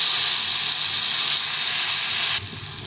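Pointed gourd (potol) frying in a pan, giving a steady, loud broadband hiss and sizzle that drops slightly in level near the end, with no voices.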